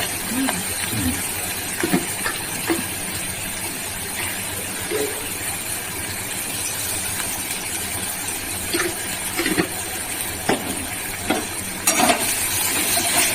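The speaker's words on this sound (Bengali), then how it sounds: "সিদ্ধ করে আলুগুলো একটু ভেজে দিচ্ছি, লবণ আর হলুদ দিয়ে" Boiled potatoes fry with salt and turmeric for mutton biryani, a steady loud sizzle with occasional scraping stirs of a utensil in the pan, and intermittent conversation in the background.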